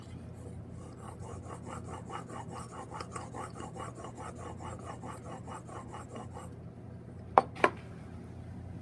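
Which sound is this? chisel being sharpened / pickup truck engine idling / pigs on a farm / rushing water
chisel being sharpened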